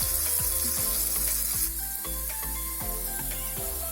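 Steady frying sizzle of red and green peppers in a hot pan, with a few soft clinks and stirring knocks throughout; close and fairly loud, no voices.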